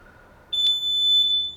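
Timer alarm going off during a no-equipment home workout, one sustained high-pitched electronic tone that starts abruptly and holds for about a second, loud and alone.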